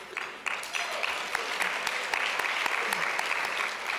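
Applause breaks out from an audience at a women's business conference keynote and holds steady, with dense clapping and a few louder individual claps standing out, fairly close and sustained throughout.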